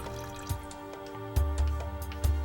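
A small dinosaur model is lowered into a container of water, giving quiet drips, soft splashes and sloshing in a short, faint sequence of separate wet plops, no talking.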